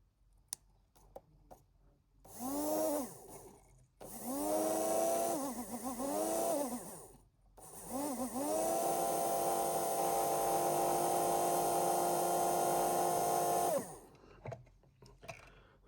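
A noisy 521 Series model train motor whines and buzzes in loud bursts that rise and fall, then holds a steady harsh drone for several seconds before cutting out, with faint clicks between runs.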